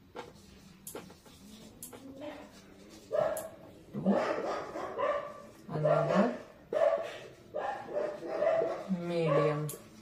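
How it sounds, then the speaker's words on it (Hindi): Several dogs bark off and on during a lesson, sharp yips and barks cutting in between steady talking from a teacher, moderately loud and fairly near. "कुत्तों के भौंकने की भी आवाज आएगी अभी वीडियो में"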